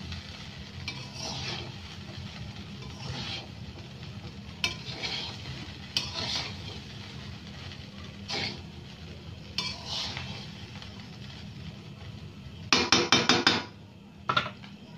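Fried prawns, chicken and cashews tossed together in a pan, with a low sizzle under repeated close spatula scrapes and stirs and a quick run of metallic clanks near the end.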